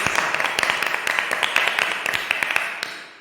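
A congregation at a prayer meeting claps their hands, sharp overlapping claps in a quick, irregular rhythm that keeps up for around three seconds before easing off slightly.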